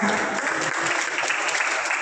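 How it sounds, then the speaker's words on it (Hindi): Dense, steady applause from an audience fills the whole moment, loud and continuous without a break. "तालियों में कमी ना करें"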